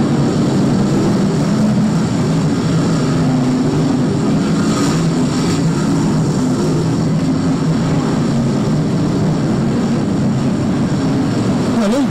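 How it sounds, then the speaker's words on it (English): BriSCA F1 stock car engines roar together as the field accelerates at a race start, a loud, dense, continuous engine drone with no breaks, heard alone without talk. "Engines begin to pick up some speed and the green flag drops."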